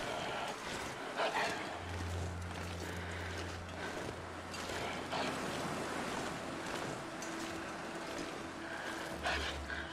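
Steady outdoor wind blowing in the snowy survival game The Long Dark, a continuous broad whooshing roar with low rumble that holds at an even level throughout, with brief heavier gusts.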